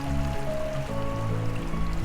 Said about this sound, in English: that really fast water that's behind me